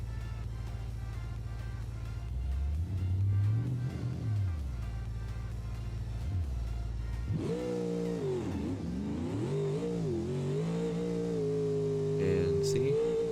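Project Moonhawk drag car on low-pressure drag tires with too much power, its engine revving up and down in loud surging waves, rising sharply to a sustained high roar in the second half, with a voice talking over it.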